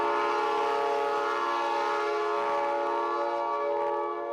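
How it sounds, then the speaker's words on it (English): A freight train hauling M1A2 tanks on rail cars toward Fort Benning, Georgia, sounds a long, loud, steady horn blast with rich layered tones, held unbroken and close by. "hauled by freight train to Fort Benning, Georgia"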